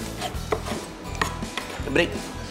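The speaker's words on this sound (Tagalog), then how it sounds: "So, andito yung steak, sirloin. Hiwain ko lang ng pahaba." A knife slices sirloin steak lengthwise on a board in a kitchen, a few short, crisp cuts close by with a faint background murmur.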